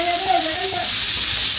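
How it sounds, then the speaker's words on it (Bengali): Food fries on an indoor BBQ with a steady, close sizzling hiss throughout, and a brief wavering whine rises above it near the start. "Sizzling করে"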